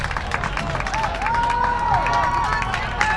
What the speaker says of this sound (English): This Ludlowe crowd getting rowdier and rowdier by the minute